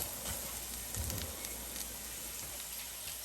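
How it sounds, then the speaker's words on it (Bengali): A spoonful of flour toasting in a hot pan for a chicken-stuffed pasta dish gives a steady, close, soft crackling sizzle with scattered small pops throughout, and no voices. "ময়দাটাকে আমি একটু ভালোভাবে একটু ভেজে"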